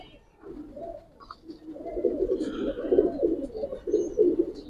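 A fancy puppet-type pet pigeon at a Bangladeshi pigeon farm gives soft, low, rolling coos in repeated phrases, close and fairly quiet, with faint chirps and background noise.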